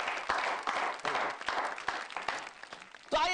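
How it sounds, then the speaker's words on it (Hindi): Audience applause at a Hindi poetry event, uneven clapping with distinct individual hand claps that swells and dips, and a voice starting to speak just at the end. "जरा तालियां बजाएं।"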